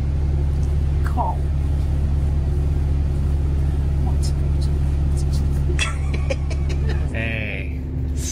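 Low, steady engine rumble from inside a moving rail replacement bus fills the whole clip, with a brief spoken word and a few faint clicks.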